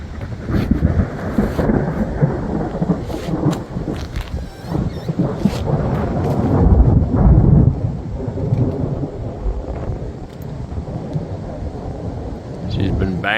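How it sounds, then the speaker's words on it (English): Rolling thunder from an approaching storm cell over a farm in Nizhny Novgorod, Russia, low rumbles swelling and fading repeatedly at a distance with wind buffeting the microphone and a person talking over it. "There's quite the storm cell right there."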